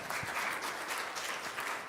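Conference audience applauding during a plenary session on climate change, a steady wash of many hands clapping at moderate distance, continuous and alone with no voices over it.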